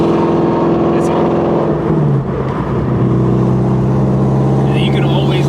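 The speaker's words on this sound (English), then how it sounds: "you can always listen to your exhaust" A Ford Shelby GT350R running on E85 fuel gives off a loud, continuous exhaust drone with a shifting pitch as the engine revs, heard up close with talk over it.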